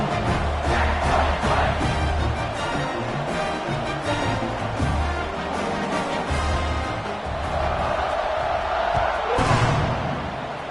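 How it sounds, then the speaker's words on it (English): A football stadium crowd roars and cheers steadily in the fourth quarter during a kickoff, a loud, dense wall of voices with a swell near the end. "this crowd is feeling themselves after that last drive"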